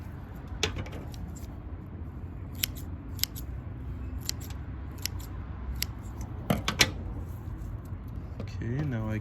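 Scissors cutting back the roots of a mountain ash tree during repotting, a series of sharp snipping clicks spaced irregularly, close up, with a quiet background hum.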